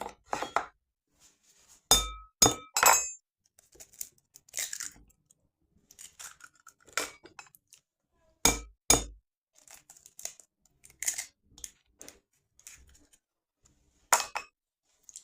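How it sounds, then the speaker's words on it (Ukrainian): Sharp cracks and taps as two eggs are broken into a bowl, spaced irregularly, with softer clinks and wet shell sounds in between, close and clear with no talking. "Потім до миски розбиваємо два яйця."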